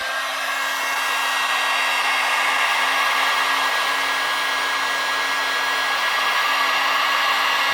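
A hot-air blower runs steadily and loudly nearby while heating a turbo compressor wheel, a constant unbroken whooshing roar with a faint steady whine.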